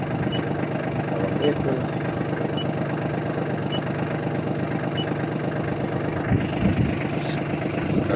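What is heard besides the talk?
Kubota KL25 mini tractor engine starting and idling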